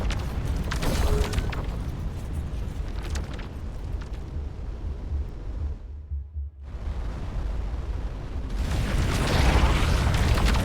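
Missile explosion in the space game Starcom: Unknown Space, a loud, sustained rumbling blast that cuts to near silence around the middle, then swells back into a broad roaring burst.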